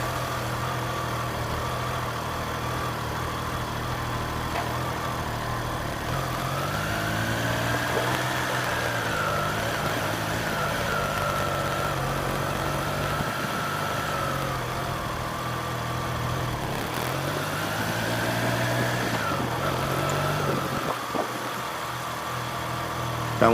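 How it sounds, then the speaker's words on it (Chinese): A Triumph Trident 660 three-cylinder motorcycle engine runs steadily nearby, idling with smooth rising and falling revs in a couple of gentle throttle blips, no talking over it. "3缸引擎的声浪吧"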